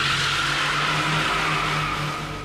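A car drifting through a mountain pass corner in the Initial D anime, a loud sustained screech of skidding tires over engine noise, close and continuous, fading slightly at the end.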